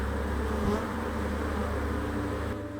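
Maltese honey bees buzz in a steady, dense drone, close and continuous and alone.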